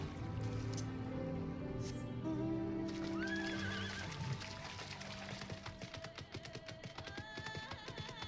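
A horse whinnies with a long quavering neigh, followed by rhythmic clip-clopping hooves, clear and close, with game sounds around it, in Final Fantasy XIV Online.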